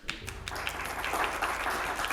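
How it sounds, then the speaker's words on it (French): A theatre audience applauds Aurore Dujardin at a stage show, a brief, moderately loud wash of clapping from many hands. "Mesdames, messieurs, je vous demande d'applaudir Aurore Dujardin"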